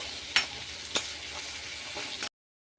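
Onion and tomato frying in a pan for an egg paneer curry, a steady broadband sizzle with a few sharp stirring scrapes, cutting off abruptly near the end.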